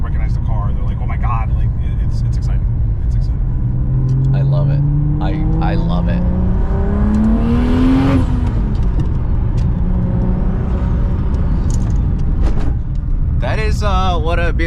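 A turbocharged BMW E36 inline-six engine revs up with rising pitch, peaks, then drops back to a rumbling idle, loud and close, with people talking over it.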